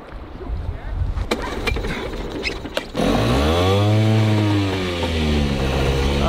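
A small outboard motor on a speedboat is pulled and cranks, then catches and runs with a buzzy, revving putter that rises and settles, loud and close.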